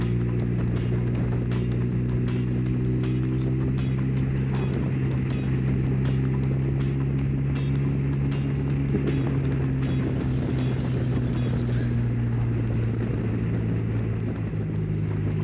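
A motorcycle cruises along a road under intelligent cruise control, its engine holding a steady droning tone beneath a constant rush of wind, with the pitch easing slightly as the speed shifts.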